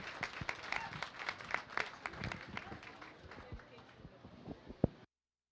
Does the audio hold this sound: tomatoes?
no